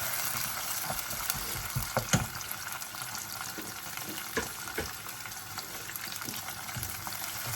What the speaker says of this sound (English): I'll keep stirring it until the onions are golden brown